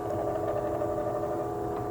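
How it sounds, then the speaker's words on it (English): An Epson 2040/2045/TW5210 3LCD projector running, its iris adjusting for brightness with a steady mechanical whir and faint fluttering hum, continuous and close, with no talk. "That is the sound of the iris, adjusting for the different brightness."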